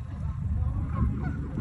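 Canada geese honk a few times at a distance by a river, faint against heavy low rumble and outdoor wind noise.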